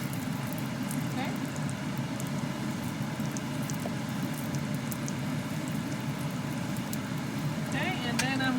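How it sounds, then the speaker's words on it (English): Beef buns pan frying in a little oil over medium heat, a constant bubbling sizzle close by, with faint voice-like sounds near the end. "And now it's time to pan fry them."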